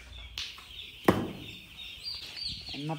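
Chickens at a poultry farm cluck and call close by, with one sharp squawk in the middle and a short run of clucks near the end over a low background.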